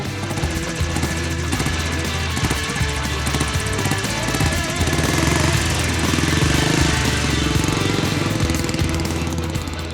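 A 70-year-old 1953 RT London bus engine running: a loud, dense, continuous mechanical clatter and drone, close by and steady throughout with no talk.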